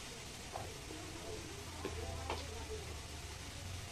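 Onion frying with salt in a pan, a soft steady sizzle with a few light stirring scrapes, quiet and close under faint background voices.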